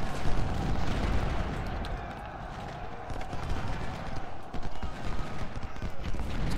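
Battle sounds from the Ultimate General video game, played in a Union legendary campaign supply raid, form dense rolling gunfire with distant artillery booms and scattered sharp cracks beneath a steady background rumble.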